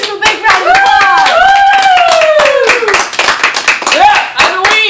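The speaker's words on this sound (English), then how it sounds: "Let's give them a big round of applause." A studio audience at a daytime talk show claps loudly and quickly while voices whoop and cheer over it in rising, sliding calls, close and energetic throughout.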